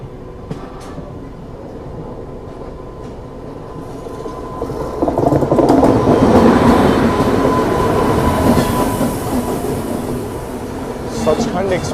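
A Duronto Express runs toward Bhopal Junction at night with a steady rumble that swells into a loud, close roar with wheel clatter midway, then eases slightly. Voices can be heard faintly underneath.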